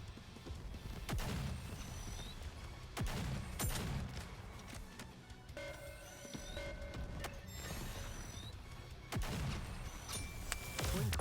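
Busy gunfire from the video game Goddess of Victory: NIKKE, with repeated sharp shots and bursts over dense game music and effects, running steadily throughout.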